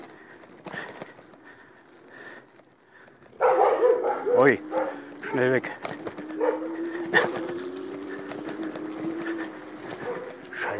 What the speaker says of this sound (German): Scheiß Hunde.